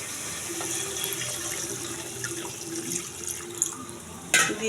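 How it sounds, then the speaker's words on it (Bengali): Water poured into a pan of curry with potol (pointed gourd), a steady running pour with a faint sizzle and a brief clatter of the vessel near the end, no talking. "এখন পানি দিয়ে দেব।"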